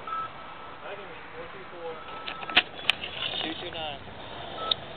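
A payphone dials a cell phone, a few short touch-tone beeps cutting through faint, crackly line noise and a low voice in the background.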